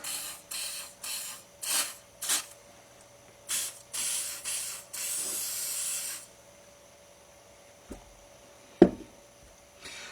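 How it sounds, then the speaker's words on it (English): Rapid bursts of WD-40 aerosol spray hiss inside a holster, then one longer spray, followed by a couple of soft knocks over a quiet background hum. "I'm going to spray it inside the holster as well."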